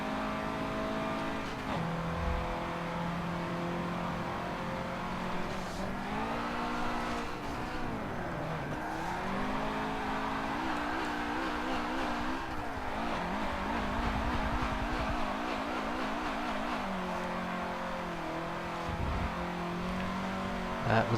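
A race car engine revs and shifts through gears in the Forza 7 racing game, pitch sweeping up and down steadily as the car brakes and accelerates into a turn.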